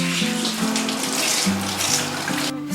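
Fresh carrots rinsed by hand under a running kitchen tap, a steady close splash of water into a sink with soft rubbing and shifting as the roots are turned, continuing throughout with no talking.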